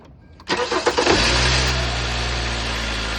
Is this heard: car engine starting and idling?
yes